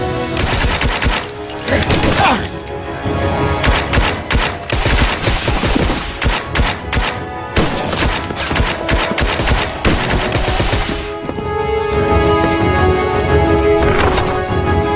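Loud, rapid bursts of gunfire crackle almost nonstop in a TV drama, with dense overlapping shots and only brief lulls between volleys.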